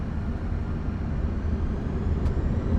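Airbus A340-300 jet engines spool up for takeoff on a Swiss flight from Zurich, a steady, loud broadband roar that fills the cabin without break.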